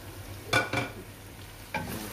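Chopped tomatoes fry in a pan during cooking of a baingan (eggplant) dish. Three quick, soft stirring and sizzling bursts sound against a low, quiet background.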